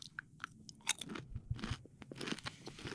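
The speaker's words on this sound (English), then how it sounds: "really self-conscious about how loud I'm chewing" Close, loud crunching of tortilla chips with salsa, with irregular bites and chewing crunches coming one after another, no talking.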